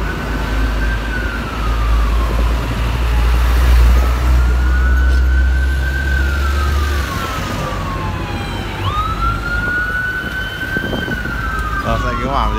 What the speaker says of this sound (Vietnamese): Rồi xe cứu hỏa đến.